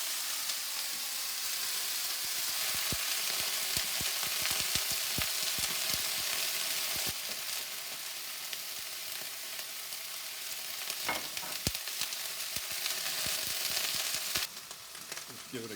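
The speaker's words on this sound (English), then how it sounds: "And this is going to sizzle." Broccoli rabe with some liquid sizzles and crackles steadily in a hot pan, with occasional clinks and stirring sounds, no talking.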